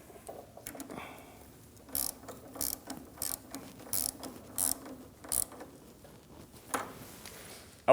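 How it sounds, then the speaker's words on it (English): A 3/8 ratchet on a long extension turns an inner tie rod removal tool on a 2009-2017 Audi Q5, giving close, repeated bursts of quick clicking with short gaps between strokes. "we'll be using a long extension and a 3/8 ratchet to turn it in the opposite direction"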